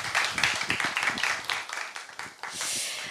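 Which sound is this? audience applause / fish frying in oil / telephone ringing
audience applause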